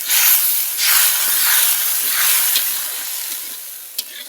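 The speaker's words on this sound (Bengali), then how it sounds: "মশলাটা যাতে না পুড়ে যায় দিয়ে দিচ্ছি জল।" Water splashed into masala frying with red chili powder in a pan for rui fish in mustard-oil curry, giving a loud, bursting sizzle and steamy hiss that slowly fades over a few seconds.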